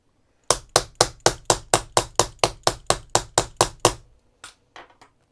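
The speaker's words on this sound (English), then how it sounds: "now I'm going to hammer that in place." Sharp metallic hammer strikes set a snap into a craft bag, about fourteen close, loud, evenly spaced blows in a steady rhythm, then three lighter taps to finish.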